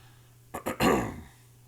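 A person clears their throat with two short, sharp coughs followed by a longer rasping throat clear, close to the microphone, with no talking.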